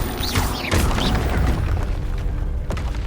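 A Bombarda spell blasts in the game Hogwarts Legacy, a heavy boom mixed with clattering, mechanical crunches and a brief whooshing sweep, followed by a lingering rumble and a final sharp knock.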